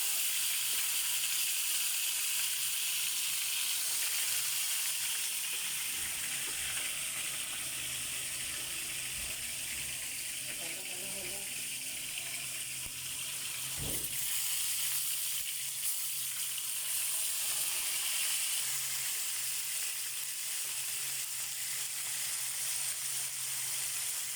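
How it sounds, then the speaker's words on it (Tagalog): Marinated milkfish (daing na bangus) fries in a pan of oil, a continuous bright sizzle and hiss that holds steady throughout, with a faint low rumble and an occasional soft knock. "Kanina umaga po nakamarinate siya at ipiprito naman natin siya dyan"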